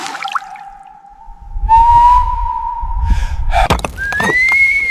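A steady, sustained whistle tone runs for several seconds, then jumps to a higher pitch after a few thumps and knocks, with hissy rumbling noise in the background.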